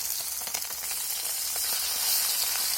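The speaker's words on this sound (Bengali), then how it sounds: "এক পাশটা আঁচ খেয়ে গেছে, এখন আমি অন্য পাশটা ভাজার জন্য উল্টে দেবো।" Parshe fish frying in hot oil in a wok as it is flipped, a steady dense sizzle with crackling bursts, close and loud throughout with no talk.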